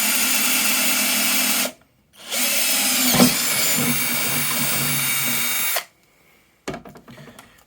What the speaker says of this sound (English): I've used the twist drill, which is marked for metal use